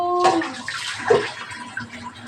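Water is poured into food cooking on a gas stove, giving a short, close splash and gurgle that trails off into softer trickling.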